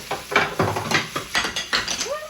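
Onions are tossed in a pan with a quick run of rhythmic scraping clatters, about eight sharp clinks and shuffles of utensil against metal at close range.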